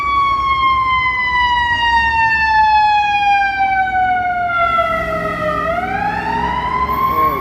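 Ambulance siren on a Chicago street, loud and close, a long wailing tone sliding slowly downward then sweeping back up, with faint traffic beneath.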